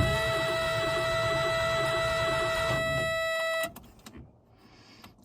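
The engine of a Subaru Brat that sat for 28 years cranks over on the starter with a steady, loud, whirring churn for several seconds and does not catch, then stops abruptly into near silence.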